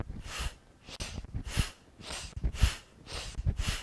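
Deep breaths during a breathing exercise, several slow rhythmic inhales and exhales heard up close, each a broad airy rush rising and falling about once a second, with no talk.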